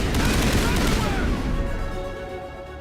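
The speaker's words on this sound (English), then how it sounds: "Oh no, I'm being shot in the face!" Gunfire in Mass Effect sounds as a dense, loud burst of rapid shots and booms that fades out over a few seconds into a ringing tail.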